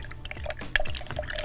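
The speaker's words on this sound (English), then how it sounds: "It's kind of a figure 8 pattern in the water" A paintbrush is swirled in a figure-8 pattern through rinse water, producing soft sloshing and small drip-like splashes, close and fairly quiet.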